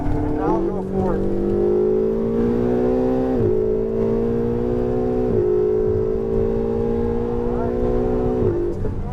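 Ferrari sports car accelerating hard on a race track, heard from inside, the engine's rising whine climbing through gears with short dips at each shift, under a coaching voice.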